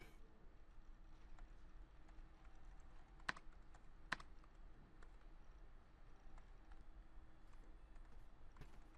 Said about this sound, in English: he types very slowly.